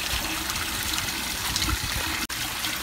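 Steady broadband rush of water trickling and flowing as more water keeps pouring in, outdoors at a theme park, close and continuous with one brief dropout near the end; no talking.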